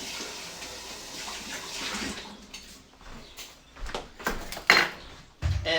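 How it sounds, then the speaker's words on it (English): Ice dumped out of a cocktail glass and the glass given a quick rinse under running water, a rattling tumble then a splashing rinse at close range, with no talk. "I'll just dump this ice and give this a quick rinse"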